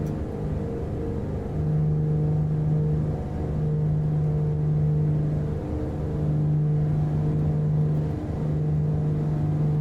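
Simulated piston engines of a Beechcraft Duke B60 in Microsoft Flight Simulator 2020 hold a loud, steady droning hum at full power, with a pulsing tone that swells and fades in a slow repeating cycle.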